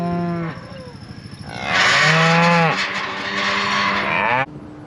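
Cattle moo in a main corral, several long, loud, close bellows overlapping one after another, with other cows calling in the background.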